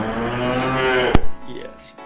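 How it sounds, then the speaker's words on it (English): A single loud, close cow-like moo holds long and low, then breaks off into a sharp click and a brief, faint voice at the end. "Why are we mooing?"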